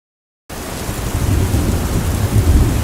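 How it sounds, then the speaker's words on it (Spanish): Heavy rain pours steadily against windows at night, with deep rumbling thunder rolling underneath and swelling toward the end; the storm starts abruptly after a short silence and stays loud and continuous. "la lluvia caía incesante, golpeando las ventanas con fuerza"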